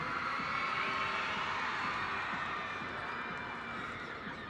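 Schoolchildren cheering together in an arena at a short track speed skating championship, a sustained loud roar of young voices that fades slightly toward the end.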